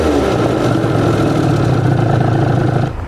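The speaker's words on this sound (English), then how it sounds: "We give it a couple of revs and you could just see it was hanging just a little bit before it dropped down to idle" Scooter engine being tuned after a pilot jet adjustment, revved steadily and loudly up close, then hanging briefly before dropping toward idle near the end.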